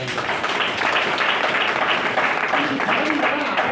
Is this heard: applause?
yes